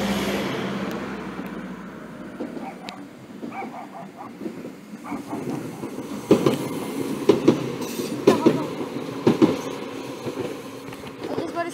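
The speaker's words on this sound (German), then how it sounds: "So, Leute, Talent fährt ab." An ÖBB Talent train departs from Rosenbach station, building from a low rumble to rhythmic clickety-clack and a few faint squeals, with some voices nearby.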